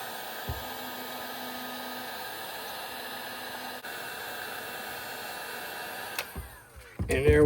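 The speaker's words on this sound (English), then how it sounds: "So it works fine on the heat shrink wrap." Milwaukee M18 compact heat gun blowing steadily while shrinking heat shrink wrap on 12 gauge wiring, a constant airy roar that holds level before sputtering and shifting near the end.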